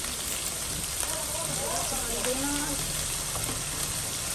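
Ground spice paste with turmeric and chili fries in a pan for fish curry, a dense steady sizzle close up, with a voice speaking over it.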